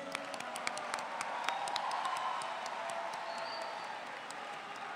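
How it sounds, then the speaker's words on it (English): Crowd clapping for a volunteer at a university orientation-week evening session, a moderate, fairly even wash of hand claps with faint voices underneath, heard at a distance in a large hall. "thank give brother a clap to him, brother, please."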